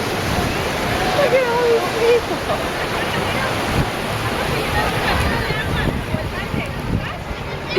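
Surf washes ashore at a beach in Chacala, Mexico, as a steady, broad roar that carries on for the whole stretch, with voices talking over the waves.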